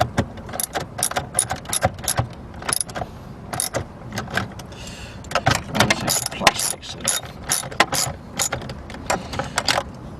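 Rapid bursts of ratchet clicking from a hand tool tightening a part on a Chrysler 300 during a stuck-in-park repair, heard close and loud in quick repeated strokes with short pauses between runs.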